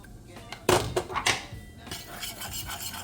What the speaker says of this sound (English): then we're gonna add our sauce,